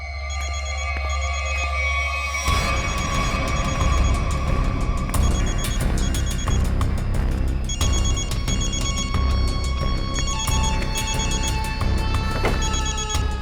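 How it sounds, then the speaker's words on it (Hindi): A phone ringtone plays on and on, a repeating melodic pattern over a low hum and steady background noise. "घंटी तो बज रही है, फोन का यहीं आसपास है।"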